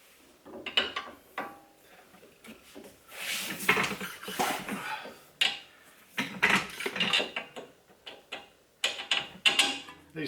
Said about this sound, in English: I gotta jack this up.